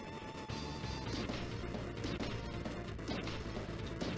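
Glass cracking on the mainframe boss in the Mighty Morphin Power Rangers video game, a loud run of repeated smashing crashes over a constant droning game soundtrack, with sharp impacts recurring every half second or so.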